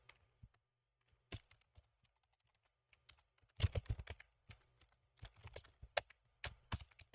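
A computer keyboard is typed on while writing lorem text for an HTML and CSS portfolio page: faint, sparse keystrokes at first, then quicker bursts of close clicking taps.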